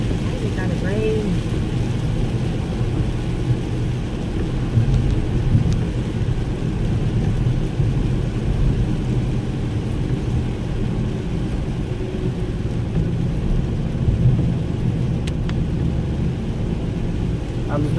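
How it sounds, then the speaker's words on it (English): Steady rain falls with a continuous hiss and low rumble, constant and fairly loud, with no breaks. "Why is it gotta rain?"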